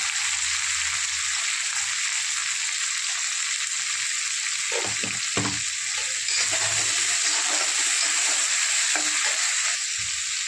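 A tomato goes into reddened garlic frying in a pan, a strong continuous sizzle close up with a few stirring clunks and scrapes partway through.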